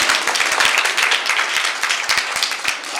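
Many hands clap together at an Arya Samaj children's camp gathering, a brisk, crisp, continuous patter of applause that stays loud and close with no talk on top.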